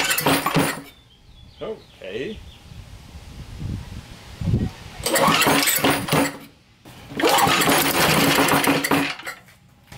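A small engine that has sat unused for 15 years, cranking and attempting to start on GumBuster carburetor cleaner, loud sputtering bursts alternating with pauses, with clanking and a voice between attempts.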